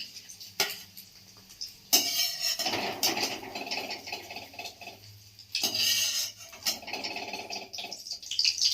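Spatula scrapes and metallic clatter of a freshly cooked omelette being lifted from an oily pan onto another plate, in bursts of scraping separated by quieter pauses.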